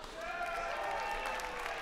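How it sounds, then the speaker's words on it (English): A crowd cheers and applauds at an esports lower-bracket final, a steady, dense wash of clapping and shouting that carries on without a break from start to finish. "if you would like TT1 from Fnatic MSI to take the win, give a cheer for TT1."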